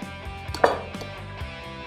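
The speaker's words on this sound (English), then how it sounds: "with just a couple of hard beats with that fork," A fork beats sticky scone dough in a bowl, a few dull, irregular thumps with one louder knock near the middle, close and without talk.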